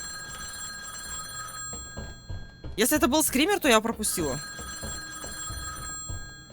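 An old telephone bell rings steadily in the indie horror game Insomnia: Chapter One, set in the Arctic. The ring continues before and after a woman's short burst of talk.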